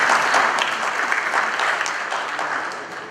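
An audience at a mining summit applauds His Excellency Wamkele Mene with steady, moderately loud clapping that slowly tapers toward the end, with no speech over it.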